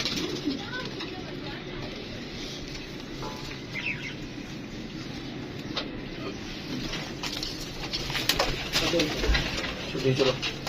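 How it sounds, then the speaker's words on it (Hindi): Pigeons coo steadily at a pigeon sale in Lahore, a dense flock of overlapping calls close by, with people talking over them and a steady background din. "ये ऊपर बैठे हुए हैं कबूतर"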